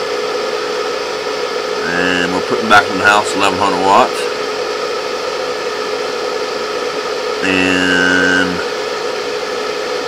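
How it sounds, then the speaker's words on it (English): Cooling fan of an Outback GTFX 2524 solar inverter, a steady whirring hum running throughout at moderate level, with someone talking over it in two short bursts. "And that noise you hear is a fan for the GTFX"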